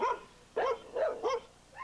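A spooked dog barks five times in quick, uneven succession, sharp mid-pitched yaps at moderate distance against a quiet background.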